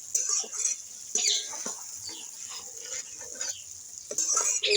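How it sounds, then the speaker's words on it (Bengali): Koi fish being stirred into a fried spice paste in an oily pan for a tel koi dish, with a steady sizzle and repeated scraping strokes of a spatula, close and moderately loud. "এবার আমি মাছ সব দিয়ে মশলার সঙ্গে আর একটু বেশ নাড়াচাড়া করে নেব, মিশিয়ে নেব মাছের সঙ্গে মশলা।"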